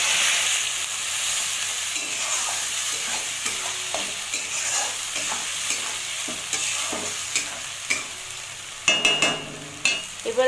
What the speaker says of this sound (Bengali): আমি এর মধ্যে পেঁয়াজ আর আদা যে বেটেছিলাম সে বাটা মশলাটা দিয়ে দেবো